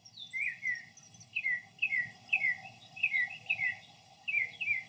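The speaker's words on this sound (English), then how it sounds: "Listen for the birds." Small birds chirp outdoors in repeated quick, high twittering phrases at a moderate distance, with a low hum and soft rustling steady underneath.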